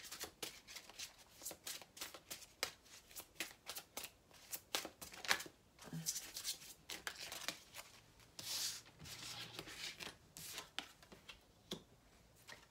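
Tarot cards being shuffled and drawn, a quiet close series of crisp riffling flicks and snaps in irregular bursts, with a soft voice briefly speaking.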